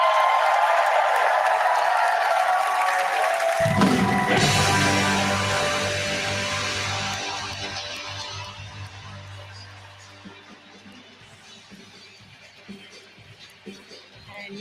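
Crowd applause and celebration fill the Republican convention hall in Milwaukee, Wisconsin, loud at first, then joined by music and talk as the clapping fades into a distant roar beneath them.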